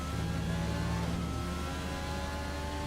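McLaren-Renault Formula 1 race car engine in the F1 2020 video game on the Zandvoort circuit, a steady high-pitched whine holding and shifting pitch continuously without any talk.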